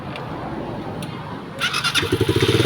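A repaired starter motor, fresh carbon brushes just fitted, is tested on the bench: a quiet stretch, then it whirs up loud and rattly with a fast pulsing drone and bright high-pitched whine.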